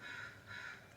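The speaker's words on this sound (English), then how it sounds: "So if you hear crows during this entire" Crows cawing outdoors after being fed peanuts, two drawn-out harsh calls spaced about half a second apart, fairly close and clear with no talking.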